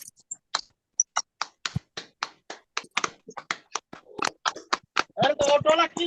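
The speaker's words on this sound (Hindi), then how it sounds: "एक बार किरण दी के लिए जोरदार ताली हो जाए" Participants in an online Zoom meeting clap in scattered, uneven bursts, and each crisp tap arrives thin over the call. The claps grow denser toward the end, where voices begin talking over them.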